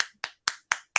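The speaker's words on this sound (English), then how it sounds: "golf clap for the films that won Academy Awards" A slow, polite golf clap given as mock credit to Academy Award–winning films: five evenly spaced single claps about a quarter second apart, close and crisp, with silence between them and no talking.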